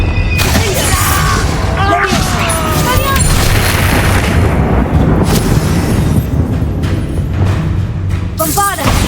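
The Expulso blasting spell in Hogwarts Legacy, heard as heavy, booming explosions with crackling debris over a busy, loud battle soundscape. Sharp bursts land near the start and again at the end.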